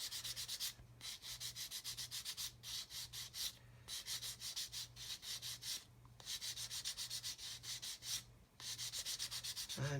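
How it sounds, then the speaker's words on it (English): A sanding sponge rubs around a round wheel of a 1/35 scale model tank kit, a close, quiet, rhythmic scratching of repeated short strokes with brief pauses. "I'll just sand this one round."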